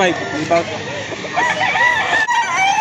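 At a chicken market, a rooster crows loudly and close by, with its drawn-out calls and some clucking under nearby talk.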